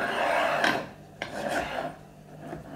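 Linear bearings on a camera slider rasp and grind as the carriage is pushed along its rails, a near, continuous scraping that swells in a few strokes with brief sharp clicks between them.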